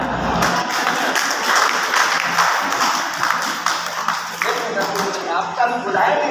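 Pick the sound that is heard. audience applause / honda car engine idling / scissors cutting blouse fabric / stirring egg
audience applause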